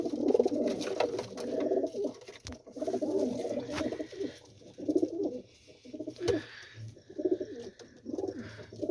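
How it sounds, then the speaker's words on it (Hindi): A pigeon coos close by in repeated low, throaty rolling phrases, a steady series of murmuring calls with short pauses between them and faint background noise. "कबूतर आया हुआ है आगे"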